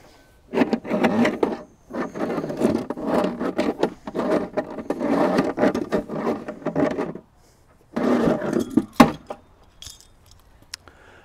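Steel cable is pulled out of a Tirfor-type hand winch used for 4x4 recovery, making close, scraping, rattling metallic rubs and clinks in several bursts separated by short pauses, with no talking.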